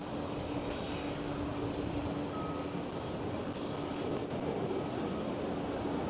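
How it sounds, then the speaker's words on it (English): KLM Boeing 737 airliner taking off at Amsterdam Schiphol, a steady distant jet roar with a broad rumbling wash that holds constant throughout. "The KLM 737 is taking off right there."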